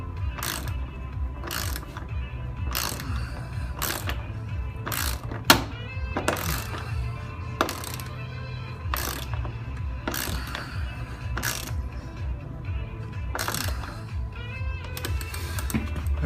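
Hand-tightening a nut cert tool on a Jeep JK while installing Poison Spyder Brawler rockers, drawing the rivet nut into the sheet metal: a steady series of ratcheting clicks and metallic turning with repeated cranking strokes, close up, with no talking.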